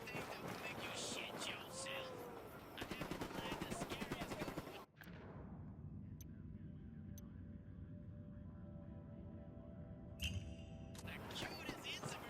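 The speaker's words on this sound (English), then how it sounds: "Unidad and rebels exchanging fire" Gunfire between Unidad troops and rebels in Ghost Recon: Wildlands, heard as a dense stretch of shots under game chatter, then a sharp loud crack and a few isolated distant shots over a steady low rumble.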